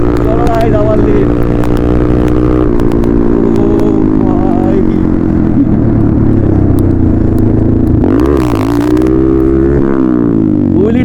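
Motorcycle engine revving hard during a wheelie, a loud sustained drone with rising and falling pitch and a sharp surge near the end, with someone talking over it.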